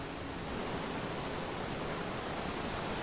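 Steady rushing water pours from a faucet in a Zelda water temple, a dense continuous hiss holding at the same loudness throughout with no voices over it.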